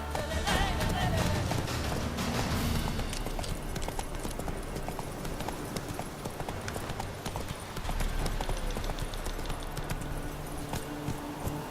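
Roach, the horse from The Witcher 3, gallops with steady, rapid hoofbeats that carry on without pause through the whole stretch, loud and close, mixed with game ambience and a faint voice.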